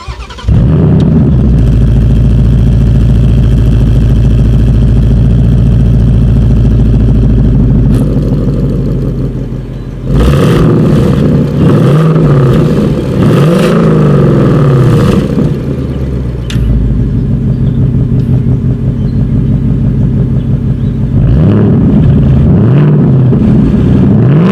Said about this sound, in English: I'm going to rev it in quiet mode, and then we will rev it in sport or track mode